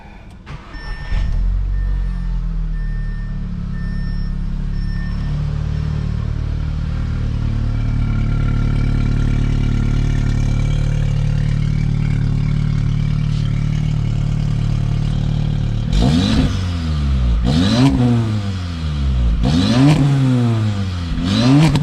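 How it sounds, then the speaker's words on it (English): Audi S3 with a newly installed downpipe starting up for the first time: a cranking catch into a loud settling idle, then a series of sharp revs rising and falling near the end. "let's get it on the ground and hear our first start"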